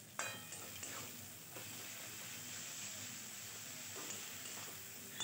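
Spice paste for ghugni sizzles in a pan, a steady close hiss with a few soft stirring scrapes and no voices.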